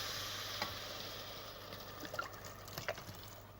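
White wine splashes into a pan of vegetables sweated for ten minutes, giving a soft steady sizzle and stirring with a few brief liquid pours and clinks, close by with no talk.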